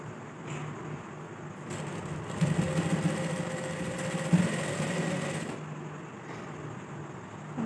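A sewing machine stitches lining onto a dupatta, running in one continuous whirring burst of a few seconds with a steady mechanical hum, quiet start and stop at either end, close by and without talk.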